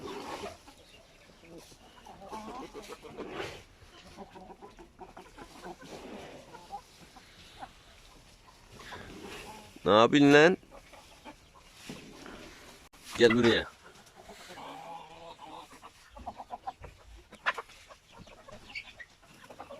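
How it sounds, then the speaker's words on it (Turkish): Healthy hens cluck and squawk around a farmyard coop, mostly low and scattered with two louder bursts, while someone talks over them. "Görmüş olduğunuz gibi tavuklarımız gayet sağlıklı. Neşeleri yerinde."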